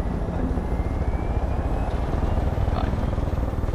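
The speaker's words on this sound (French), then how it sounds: "J'ai mon hélicoptère, on va sortir à deux hélicoptères" A helicopter in the video game Far Cry 5 keeps up a steady, loud, dense rotor and engine roar throughout, heard close with no break.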